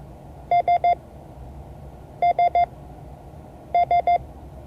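Morse code tones for the letter S: three groups of three short, clean beeps, each group a quick dit-dit-dit, spaced evenly apart and loud over a low hum.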